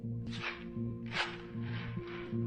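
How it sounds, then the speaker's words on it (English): Pigeons in flight beat their wings in a few sharp, separate whooshing claps about every half second to second, over a steady low mechanical hum. "The decibel waveforms show the sound being generated by the birds in flight. Each spike is an individual wing beat."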